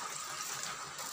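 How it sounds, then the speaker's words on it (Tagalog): Water poured onto a punctured tricycle tire gives a steady, close splashing and gushing wash for the whole moment, with no talking over it. "Diyan lagyan ng tubig."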